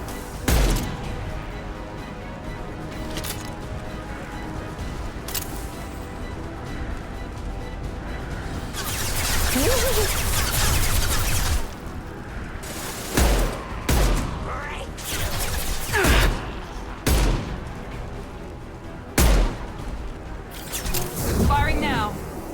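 Gunfire in the sci-fi shooter Mass Effect 2: scattered sharp shots, some in quick pairs, over a steady game backdrop with a denser, noisier stretch of combat in the middle and voices talking at times.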